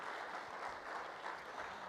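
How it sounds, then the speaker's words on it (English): Audience applause at a city State of the City address celebrating Hayward's birthday, a short, fairly faint steady patter of clapping from a crowd in a hall. "So let's give a big round of applause for Hayward"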